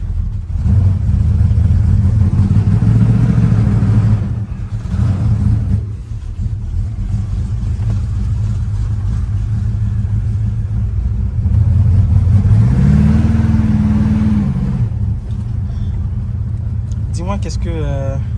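A donk car's engine rumbles steadily while driving, with a rising rev swell midway, loud and close from inside the vehicle, with people talking over it.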